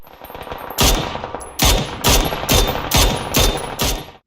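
Mini 14 rifle firing in the PUBG video game: six loud, sharp gunshots spaced roughly half a second apart, each with a short ringing tail, heard alone without talk.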